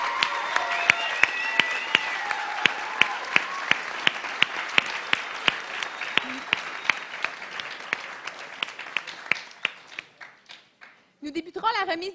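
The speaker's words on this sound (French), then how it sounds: "je demanderai une bonne main d'applaudissements, pour tous les participants de Cégep en spectacle" Audience applause for participants at a local college talent show final: a crowd claps in loose unison with sharp individual claps standing out, accompanied by brief cheers and vocal sounds early on. The clapping thins and fades near the end as a voice comes in.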